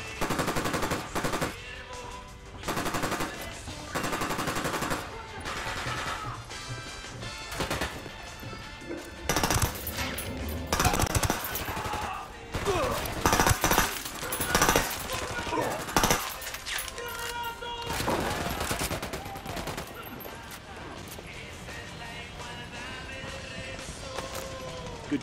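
Dense automatic gunfire and bursts rattle almost without pause in a Ghost Recon Wildlands firefight, loud and layered with game effects and occasional voices under the shooting.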